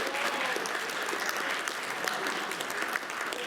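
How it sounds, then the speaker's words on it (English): Sustained applause from a meeting audience honoring an associate of the month, a dense even patter of many hands at moderate distance with faint voices mixed in. "that applause is well-deserved"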